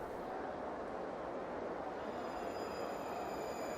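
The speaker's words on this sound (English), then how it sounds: "People are just going to get on the train and bugger off that way." Train departing with passengers in the airport management game SimAirport, heard as a steady, continuous rail rumble and rolling hum with faint high squeals, fairly quiet and unbroken throughout.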